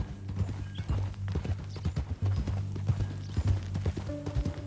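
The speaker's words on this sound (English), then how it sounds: "That a new horse?" Horse hooves clip-clop steadily in Red Dead Redemption 2, a loud rhythmic walking beat over low ambient game sound, with a brief whinny-like tone near the end.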